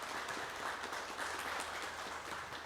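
A studio audience applauds a city mayor at a Suncheon civic forum, with steady, moderately quiet clapping spread evenly across the whole stretch and no voices over it.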